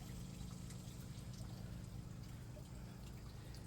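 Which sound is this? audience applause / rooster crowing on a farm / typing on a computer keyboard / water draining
water draining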